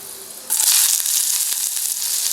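Onion, green chilli, ginger and curry leaves drop into hot oil for chickpea sundal and erupt into a loud, steady sizzle that holds close and continuous, with a few soft clinks over it.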